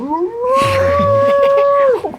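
A dog gives one long, wavering howl that rises and then holds steady before trailing off, loud and close, with a low human sound briefly underneath.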